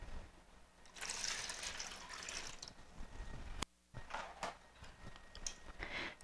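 Heavy cream and milk poured from a measuring cup into a bowl with three eggs for bread pudding, a close, steady liquid trickle and splash that cuts out briefly and then resumes in a few shorter gurgling pours.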